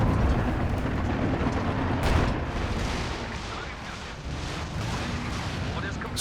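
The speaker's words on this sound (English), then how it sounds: "Stuka barrage going in." Stuka dive bomber barrage in a real-time strategy video game, a dense rumbling roar of overlapping blasts and booms that swells near the start and then holds steady, loud and continuous throughout.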